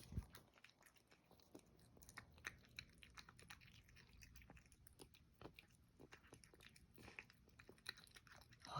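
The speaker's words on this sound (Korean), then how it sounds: "얼마나 배고팠으면 이렇게 먹어?" A pet eating dry kibble: quiet, close crunching and chewing in rapid irregular clicks and snaps, steady throughout with no voices.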